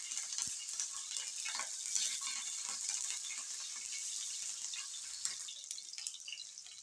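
Green chillies sizzle in hot oil in a home kitchen pan, a steady bright crackle and hiss with scattered sharper pops, close and continuous throughout.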